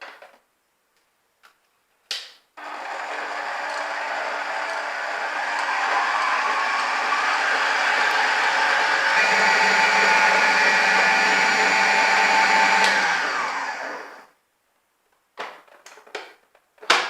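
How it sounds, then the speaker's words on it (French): Electric hand mixer whipping egg whites with a pinch of salt into stiff peaks, a steady close whir running about twelve seconds between brief clatters, with its tone rising slightly as the whites firm. "Et on lance le batteur."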